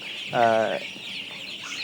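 A single loud cluck from a 20-day-old Tiger chicken, a coloured meat breed, rises clearly for about half a second, followed by quieter background noise with faint bird calls.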